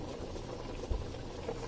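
Nigerian goat meat pepper soup with blended prawn, mint leaf and Cameroon pepper boils in a pot, giving a soft, steady bubbling hiss with an occasional faint pop, quiet and close.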